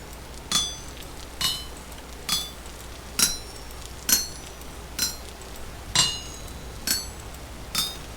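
A hammer strikes metal on an anvil in the video game Vintage Story, flattening ridges with about ten evenly spaced ringing clinks, close and clear with no talking.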